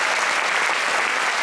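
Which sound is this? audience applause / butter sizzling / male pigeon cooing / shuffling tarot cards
audience applause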